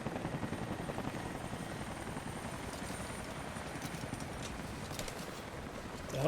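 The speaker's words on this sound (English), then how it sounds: "That's a cool looking chopper." Helicopter in the video game Rise of the Tomb Raider at a Soviet installation, a steady rotor chop sustained throughout, fairly loud and continuous with no talk.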